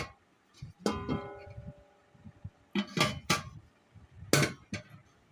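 Newly bought metal cooking pots, a pot and a wok from a village fair market, clank together in a few sharp, ringing knocks spaced apart, with quiet gaps in between.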